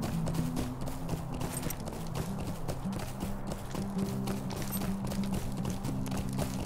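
Galloping horse hooves in a fantasy role-playing video game, a continuous fast rhythmic drumming running through the whole stretch, moderately loud with no talk over it.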